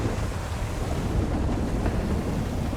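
Rain falling at night in the video game GTA 5, a dense, steady hiss of downpour with a constant windy wash and no distinct drops standing out.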